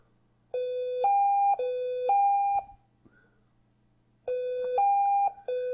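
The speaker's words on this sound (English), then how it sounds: "it triggers the alarm to go off" Arduino trip-wire alarm driven by an HC-SR04 ultrasonic sensor, sounding a loud two-tone electronic warble that alternates low and high pitches in a steady rhythm, stops briefly, then starts again, with a faint hum underneath.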